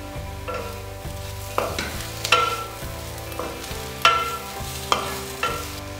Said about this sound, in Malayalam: ഇനി ഇതിലേക്ക് മുറിച്ചു വെച്ചിരിക്കുന്ന തക്കാളി ചേർക്കാം.